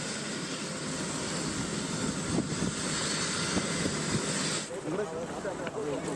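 A helicopter arrives and sets down at Kumbakonam in Tamil Nadu. Its engine and rotor give a steady, broad roar that stays fairly loud throughout, mixed with buffeting wind noise on the microphone.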